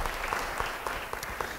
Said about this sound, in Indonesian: Yang percaya beri tepuk tangan bagi Tuhan.